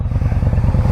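A 2019 Indian Scout Bobber with an Icon Brass Smoke 2-into-1 exhaust rumbles close and loud, its engine beating in a steady, rapid low pulse with no talk over it.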